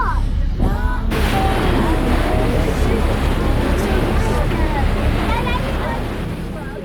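A steady roar of engine and wind over rushing water, loud and constant, recorded riding on a moving boat arriving in Sydney.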